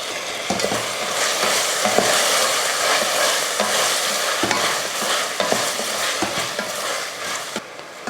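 Carrots, beans and potatoes sautéing in a pan, a steady sizzle with repeated scraping and stirring knocks of a spoon against the pan, close and continuous.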